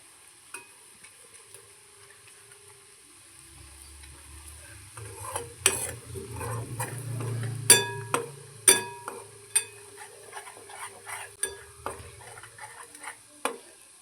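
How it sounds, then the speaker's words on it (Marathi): Garlic roasting in a pan while being stirred for garlic rice: quiet sizzling builds up, then a run of sharp utensil scrapes and clinks against the pan, irregular and close, growing louder in the middle before tapering off. "छानपैकी लसणाचा कच्चापणा जाऊपर्यंत आपल्याला हे व्यवस्थित भाजून घ्यायचं आहे"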